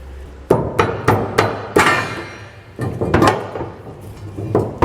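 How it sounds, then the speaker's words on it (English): Sharp metallic hammer taps knocking a B&W fifth wheel hitch rail into place in the bed of a 2012 Ram 2500 pickup, a few irregular close blows in quick clusters. "Sometimes you might have to even kind of tap it into place."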